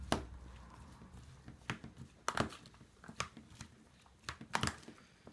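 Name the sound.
quick stir of salsa with bottled lime juice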